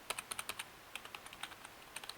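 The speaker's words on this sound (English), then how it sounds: "now the keys aren't too loud, like if I don't clap them with my finger, but I just keep low and push." Keys on a T-Wolf T20 rainbow-backlit gaming keyboard are pressed softly in a quick, uneven run of about twenty close, quiet clicks with a cushioned feel and no talking.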